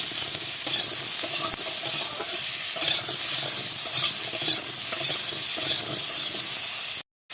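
Fish roe and pipli greens frying in a pan with salt, a loud continuous sizzle and hiss with repeated stirring scrapes close by, cutting out abruptly at the end; nobody speaks.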